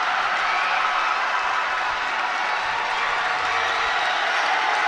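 A steady, loud roar of spectators fills the gym at a boys' basketball semi-final, Dunbar versus Henry Clay, with the score tied late in the game. The broad crowd noise holds evenly with no clear breaks.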